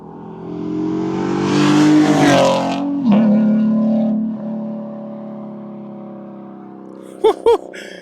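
A Nissan 370Z with equal length headers and a valved exhaust passes close by, its engine swelling loudly, then cracking through crisp downshifts before fading. Two sharp pops come near the end.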